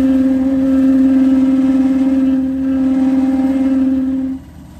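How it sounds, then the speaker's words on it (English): A burnishing wheel spins steadily on the edge of a new shell cordovan Alden shoe, a loud, even motor hum with a constant tone that drops away abruptly at the end. "This burnishing wheel has the same pattern as the trimmer."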